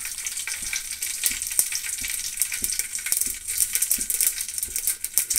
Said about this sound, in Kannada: ಅದರ ಜೊತೆ ಸ್ವಲ್ಪ ಸಾಸಿವೆನ ಹಾಕ್ತಾ ಇದ್ದೀನಿ